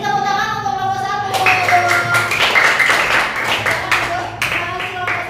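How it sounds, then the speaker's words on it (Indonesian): Classmates in a classroom clap for group 1 after a speaking voice at the start, a loud burst of handclaps lasting several seconds with scattered sharp individual claps. "silakan beri tepuk tangan untuk kelompok 1"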